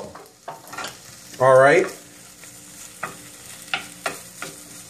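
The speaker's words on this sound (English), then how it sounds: "As you can hear the sizzle coming back up." Garlic sizzles and crackles in a hot frying pan alongside scraping stirs, with a brief spoken word in the middle.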